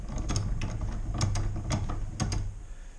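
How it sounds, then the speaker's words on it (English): A metal bench vise on a cluttered workbench being cranked open, close and clear, with a rapid series of ratcheting clicks and mechanical rattles over a low grinding drone. "and opening my vise"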